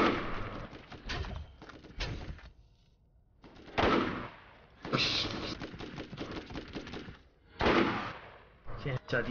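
Gunfire from the video game Borderlands comes in several loud, close bursts of rapid shots separated by short quiet gaps, with faint talk mixed in.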